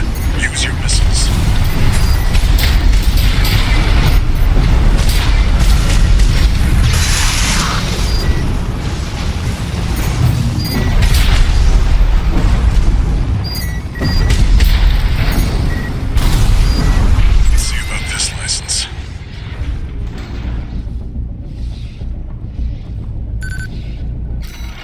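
Missile explosions in the video game Armored Core VI, a dense barrage of booms and bursts rolling continuously for most of the stretch under game dialogue, then thinning out into quieter mechanical noise near the end.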